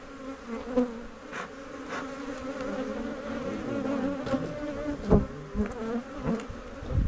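A dense, steady buzzing of many honeybees swarms close by over an open hive, with occasional louder passes and faint knocks underneath.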